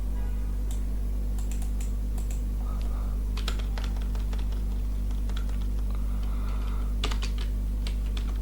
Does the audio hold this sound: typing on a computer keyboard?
yes